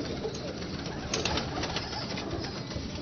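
Ali wale pigeons, kept as breeding pairs in Lahore, cooing nearby in soft repeated low calls over a steady background hiss.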